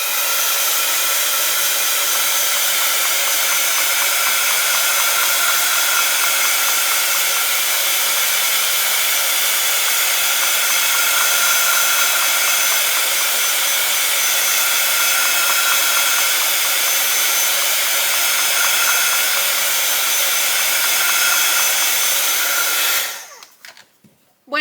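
A heat gun or hair dryer blows continuously on a piece of candle wax being warmed for a Yule candle, a steady close airy whine that runs unbroken before cutting off abruptly near the end.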